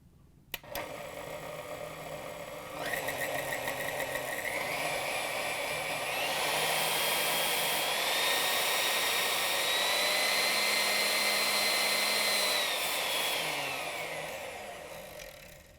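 Motor of a Whirlpool, KitchenAid or Maytag stand mixer, being adjusted via its speed governor, whirs steadily and close, its whine rising in distinct steps as it moves up through the speeds, then easing off at the end.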